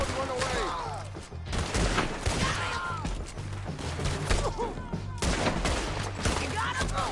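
Rapid gunfire in Red Dead Redemption 2 during a post-game shootout, bursts of shots cracking continuously across the scene with a steady low rumble beneath and occasional voices mixed in.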